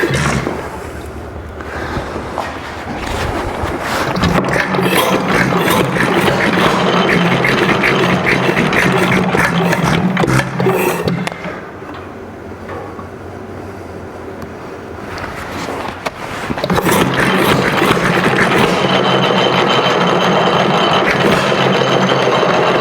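A Macleods (Nelson Brothers) Model TA 1 3/4 HP stationary engine runs steadily and loudly with a fast, even chugging, easing off briefly midway before picking back up.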